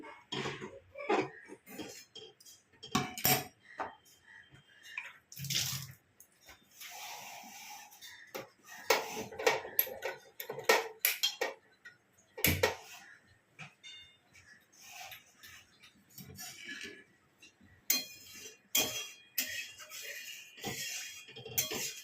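A kadai (wok) and pots being washed with hot tap water, scattered clanks and scrapes of metal vessels, splashes and running water in irregular bursts, fairly close.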